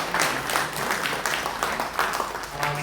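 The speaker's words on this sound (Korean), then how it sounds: "뜻깊은 강연을 해주신 김동혁 교수님에게 다시 한번 큰 박수 부탁드립니다" An audience applauds a professor after his lecture at a council launch meeting, with dense, even clapping from a large room lasting throughout.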